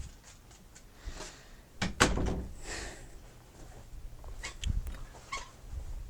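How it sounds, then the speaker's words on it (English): A dog at a household door wanting to be let out, with a few brief bumps and scratchy sounds and one louder burst near the middle, close by in a quiet room. "And one of the dogs wants out."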